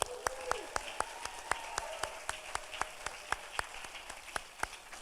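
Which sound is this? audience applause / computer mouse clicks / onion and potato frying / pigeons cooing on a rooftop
audience applause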